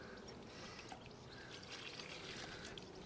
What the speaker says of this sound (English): and add the water